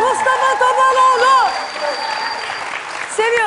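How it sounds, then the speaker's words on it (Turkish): Applause at a lively entertainment show with singers, a dense clapping crowd with a voice speaking and singing over it, fading briefly before rising again at the end. "Alkışlar bir şarkı daha."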